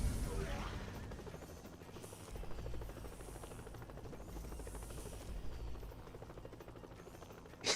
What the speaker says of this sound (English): The helicopter's just going there like, I give up.